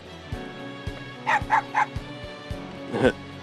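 A dog in the Persona 4 Arena Ultimax video game gives three quick close barks followed by a fourth a moment later, over a rhythmic ticking background.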